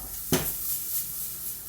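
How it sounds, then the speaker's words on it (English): Minced onions drop into melted butter in a pan, one sharp burst of sizzle that settles into a soft steady frying hiss, close and alone. "we're gonna add the onions, the minced onions that we did previously."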